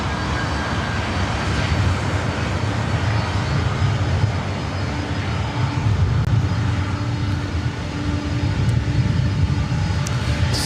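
A 27-year-old Boeing 767-300ER jet airliner departing LAX for JFK, its engines a steady, loud broadband roar holding throughout with a low rumble underneath.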